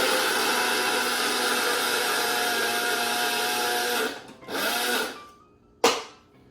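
A kitchen blender grinding toasted mole verde ingredients, a loud steady whir that runs continuously, then cuts out, restarts briefly and stops with a final short burst.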